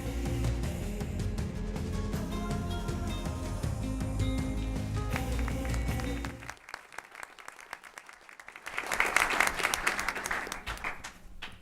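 Clapping from an audience at a school board meeting rises after a stretch of background music, a short burst of many hands applauding at moderate volume before tapering.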